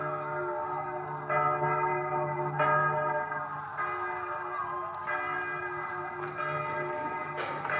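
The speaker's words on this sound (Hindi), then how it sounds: "पूरे शहर में पड़ले हो रही है और तुम्हें ये घंटी की आवाज सुन के संतोष हो रहा है।" A large temple bell rings repeatedly with a deep, sustained resonant tone, each new stroke swelling over the lingering hum of the last, loud and close.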